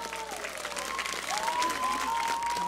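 Applause from the audience at a live concert show, steady clapping that grows a little louder partway through, with sustained tonal sounds, likely from voices or instruments, gliding over it.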